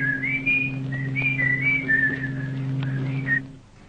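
A person whistles a wandering, warbling tune in short rising and falling phrases over a steady low hum, ending in a few brief notes.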